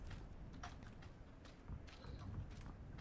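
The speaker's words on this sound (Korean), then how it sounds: "발소리 왼쪽." Footsteps on the left in a multiplayer shooter, a soft, steady run of quick steps at moderate distance over a dense, noisy game background.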